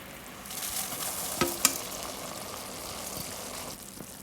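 Aval (flattened rice) cooking in boiling jaggery syrup in a pan gives a steady, close bubbling sizzle. A couple of sharper clinks or stirring knocks stand out partway through, and no one speaks.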